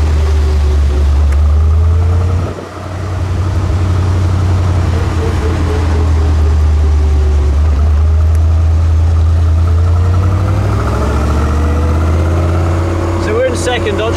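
A car with a Rover V8 engine accelerates at part throttle, a deep steady rumble with a dip near the start and rising engine tone later, while people talk over it.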